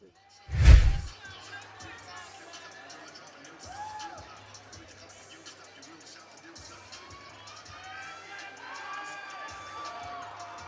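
A loud slam opens, then a crowd at a grappling match in Spartanburg, South Carolina cheers and shouts, with a lively mix of voices and whoops building toward the end.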